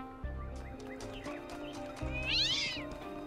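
A cat meows in the video game Talos Principle 2: one drawn-out, rising and falling meow near the end, heard over steady in-game background music.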